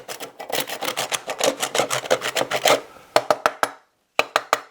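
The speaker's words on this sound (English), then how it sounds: "I will take and I will rasp a pile" A drywall rasp scrapes across fatwood in quick, rhythmic strokes, each pass a dry, gritty rasping burst; a steady run of strokes gives way to a few spaced single passes after a brief pause, close and fairly loud.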